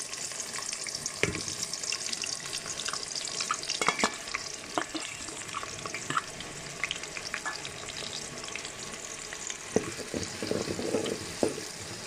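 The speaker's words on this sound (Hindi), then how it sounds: "हमारा ऑयल गर्म हो गया है तो इसके अंदर प्याज डालेंगे हम।" Onions frying in hot oil for a chickpea gravy, giving a constant close sizzle with scattered spoon scrapes and taps as they are stirred. No one talks.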